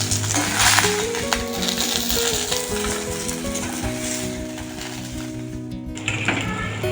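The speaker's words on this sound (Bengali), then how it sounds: "অল্প তেলে ভাজা তো, একটু ধৈর্য ধরে ধরে ভাজতে হবে" Chicken shallow frying in a little oil on a gas stove, with a steady dense sizzle and crackle all the way through, loud and close, with faint stirring and scraping in the pan and no talking.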